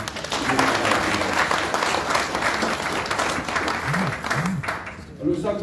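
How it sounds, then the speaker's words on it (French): A crowd at a fishermen's certificate ceremony applauds the Prime Minister with steady, dense clapping that lasts throughout, fairly close and loud, with a voice speaking over it. "Alors le plus grand applaudissement pour le Premier ministre à Pays-Bas."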